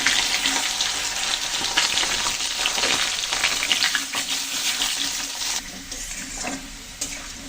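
Taro roots fry in hot oil seasoned with cumin, giving a loud, continuous close sizzle with scraping stirs throughout that eases slightly near the end.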